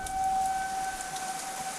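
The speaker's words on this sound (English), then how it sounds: "the sirens are kicking off for a 5th round." A steady civil defense siren for a tornado warning wails in the distance, holding a sustained tone over the hiss of falling rain from a thunderstorm, with no voices.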